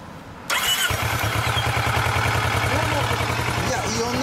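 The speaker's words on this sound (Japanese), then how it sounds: "ほんならこちら忍者エンジン音聞かせてもらえますか？" A stock 2014 Kawasaki Ninja 400R motorcycle engine starts after a brief pause and settles into a steady, rumbling idle with a regular low pulse, close and loud throughout.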